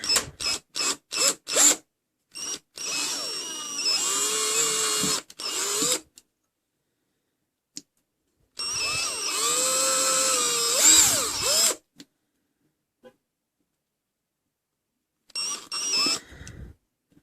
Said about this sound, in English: Now we need to drill some holes for the flowers to go in.